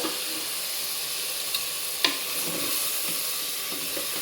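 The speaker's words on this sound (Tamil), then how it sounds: "நல்லா இது மாதிரி ஒரு கிளறு வெண்டைக்காய் பெரட்டி விடணும் இந்த மாதிரி" Okra stirred and fried in a pan for a Tamil kara kuzhambu, a steady close sizzle with occasional scraping spoon clicks, no talk.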